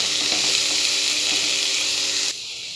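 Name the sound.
beef being mixed into masala paste in frying pan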